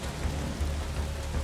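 Steady rain falling in the Days Gone video game, a dense, even wash of noise with low rumbling underneath, fairly loud and continuous, with no voices.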